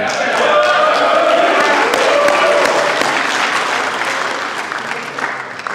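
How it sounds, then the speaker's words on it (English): Dense, loud applause with some cheering from an outdoor lacrosse-field commencement audience, sustained for several seconds before slowly thinning. "what a wonderful audience you have here cheering you on"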